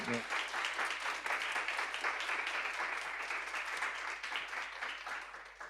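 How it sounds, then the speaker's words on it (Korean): A congregation applauds in a Korean church in Shanghai during a baptism service. Dense, loud clapping fills the room for several seconds without a break. "박수."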